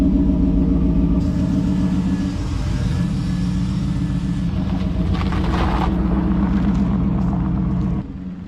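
A 47-year-old Pontiac Trans Am with sharpened throttle response rumbles loud and close, its engine revving steadily for about eight seconds before dropping off abruptly near the end.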